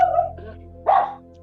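A poodle mix lets out two short barks indoors, close and fairly loud, with a brief gap between them.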